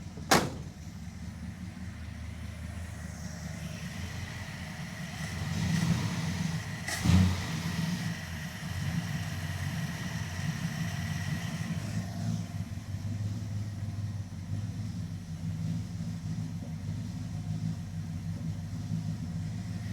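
A Dodge Charger crew cab engine under restoration idles steadily at close range with a low, uneven rumble from a slight misfire. A brief clunk sounds early on, and a swell of revving comes midway.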